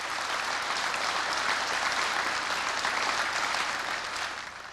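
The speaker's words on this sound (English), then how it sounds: "Polite architects applauded." A roomful of architects applauding politely, an even, dense patter of many hands clapping at a steady level before tapering slightly at the end, with no voices over it.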